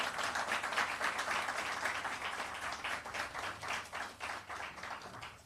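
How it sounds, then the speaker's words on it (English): An audience applauds a senior archivist at a records-management month launch and public lecture. The clapping is faint, steady and rhythmic, with many hands at a distance, and no talk can be heard. "give her another round of applause"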